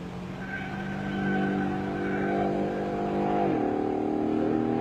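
The engine of a 1969 Dodge Charger Hemi Daytona holds a steady, strong drone, then its pitch drops as the revs fall and it settles into a lower hum. The sound is sustained and moderately loud, with no talking.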